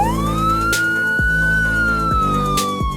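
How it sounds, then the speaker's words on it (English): A police siren wails steadily and loudly with a rising then sustained tone, layered with other sirens and a few sharp knocks, no voices. "the air filled with the cacophony of sirens and shouting, but Jada heard none of it."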